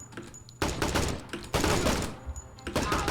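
Dense gunfire erupts around an operator in the tactical shooter Door Kickers 2, sustained bursts of rifle and machine-gun fire hammering loudly in two heavy waves with a brief lull between.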